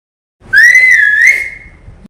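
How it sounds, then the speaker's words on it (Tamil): A whistle blown loudly and close for about a second and a half, one steady shrill tone that wavers slightly and then fades out. "விசில் எடுத்துட்டு நடக்காரு"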